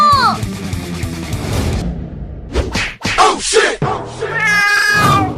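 Several cats meow and yowl loudly in a desi comedy skit, with drawn-out rising and falling cries broken by a couple of quick whooshing swishes and short gaps.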